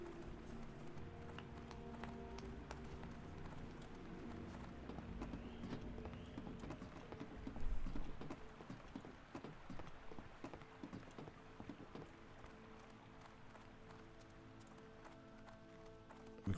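A mount's hooves clip-clop in a continuous galloping rhythm while riding in World of Warcraft. The hoofbeats are steady and run throughout, layered with other game sounds.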